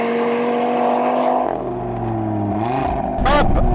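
An Audi TT RS sports car drives on a track, its five-cylinder engine droning loudly from inside the cabin, the pitch shifting down and back up through gear changes, with a brief rushing burst near the end.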